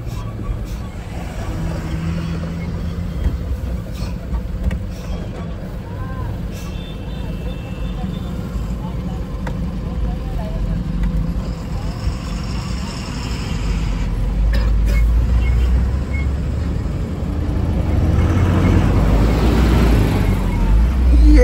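A stuck Indian truck idles with its engine running on the road, a low rumbling drone that swells louder toward the end, with faint traffic and clatter in the background.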